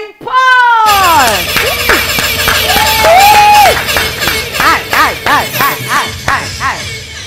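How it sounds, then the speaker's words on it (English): A studio audience bursts into loud cheering, whoops and clapping to welcome a singer onto a live show, with high excited shouts and rhythmic applause swelling, then pulsing in waves. "Let's put our hands together and welcome"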